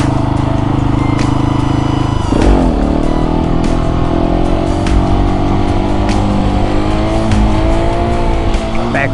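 A 701 motorcycle engine revving hard in second gear during a wheelie attempt, loud and close with a sharp rise in pitch around two seconds and throttle swells after, plus wind noise and some voice underneath.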